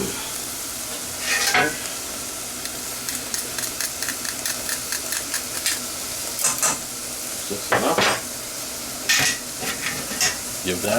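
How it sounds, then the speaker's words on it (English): Onion and garlic sizzling in a frying pan, a steady close crackle broken by repeated scraping stirs of a utensil across the pan, with no talk. "A little bit of a stir."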